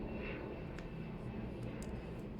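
An airplane flies over close to an airport, giving a continuous broadband engine roar at steady loudness, with no talking.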